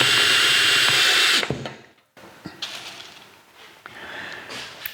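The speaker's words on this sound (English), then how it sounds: "let's get some screws in there." Power drill driving screws while installing tin ductwork in a Victorian house: a loud, steady whine for over a second that cuts off, then quiet scattered clicks and handling noises.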